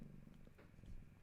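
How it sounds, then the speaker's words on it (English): A cat purrs close by, a low rumbling vibration pulsing steadily through the short stretch, soft and continuous. "hope you can hear the cat purring."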